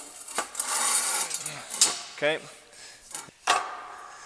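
Folding lightweight sawhorse of steel tubing, hot rolled electric weld tube sliding inside DOM tube, being folded up: several sharp metallic clanks and rattles, close and fairly quiet, with brief pauses between them.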